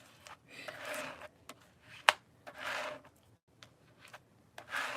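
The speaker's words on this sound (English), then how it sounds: "I'm kind of pushing it in and scraping." Paste is pushed and scraped through a stencil on a card in several short, soft rasping strokes with brief pauses between them, close up and quiet.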